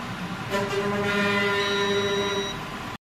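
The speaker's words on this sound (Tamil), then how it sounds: "போட்டு கண்டினியூட்டி மோடில் வச்சிட்டோம். Beep sound" A sustained electronic tone from a Themisto TH-M98 multimeter in continuity mode, holding steady for about two seconds before cutting off, with no talk over it.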